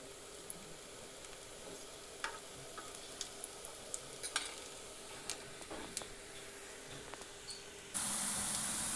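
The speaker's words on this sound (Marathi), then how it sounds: "एक साईड झाली की ह्याला दुसरी साईड पण पलटून ह्याला फ्राय करून घ्यायचं आहे." Vadas fry in a pan, giving a soft, steady sizzle with scattered small pops and crackles, fairly faint, no talk.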